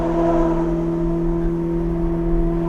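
A Ferrari engine drones loudly and steadily through its exhaust, a deep, constant, tonal roar held near the car without rising or fading.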